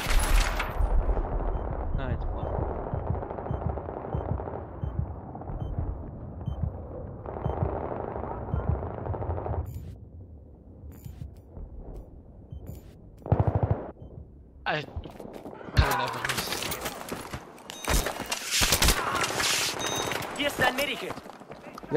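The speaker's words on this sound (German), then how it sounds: "Random Schüsse, keine Ahnung." Gunfire in the Battlefield 3 video game during an ESL competitive finals match on the Teheran map, with bursts of shots and busy battle noise running under steady team voice chat, growing denser and sharper toward the end.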